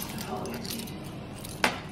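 A bunch of keys, including a GMC vehicle key and a tracker tile, jangles softly with one sharper metallic clink near the end, while a person talks nearby.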